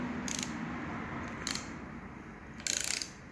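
A ratcheting angle wrench tightening a fastener on a BMW R69S motorcycle during a rebuild, three short bursts of bright metallic clicking spaced about a second apart, close and fairly quiet in a still workshop.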